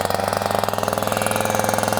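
An EFR vent saw engine starting at high idle runs loud and close with a steady, fast pulsing rhythm, alone without any voices.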